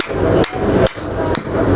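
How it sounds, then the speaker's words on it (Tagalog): Three sharp, loud hammer blows knock a stuck shaft loose from an electric fan that turns with difficulty, spaced roughly evenly and ringing briefly over a steady close-up background hum. "pukpukin po natin ang martilyo dito para lumabas doon."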